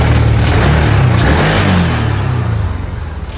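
Engine of a 2015 Can-Am Commander 1000 side-by-side running after a spark plug, plug wire and coil repair, loud and close, revving up then settling toward a lower idle.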